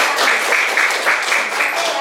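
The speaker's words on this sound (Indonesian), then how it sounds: "Oke, tepuk tangan dulu untuk semuanya." An audience claps steadily for group discussions in a classroom teaching session, a dense, continuous patter close by that holds for the full two seconds without any clear break or swell.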